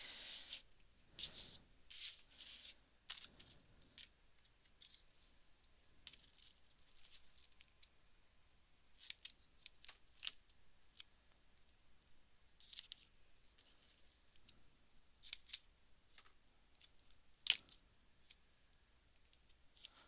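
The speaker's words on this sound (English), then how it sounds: "Just gonna burnish this down with my hand." Paper is burnished down by hand onto a handmade card, giving faint dry rubbing and scraping strokes in irregular bursts with quiet gaps between them, close and soft.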